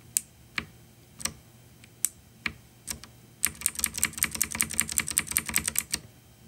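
Keystrokes on a Keychron C1 mechanical keyboard: a few sparse, crisp clicks first, then a rapid run of typing with close, bright, evenly loud clacks and no voices.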